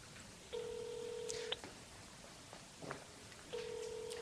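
Telephone dialing a call: two long steady tones sound about three seconds apart, with short clicks and faint sounds in between in a quiet room.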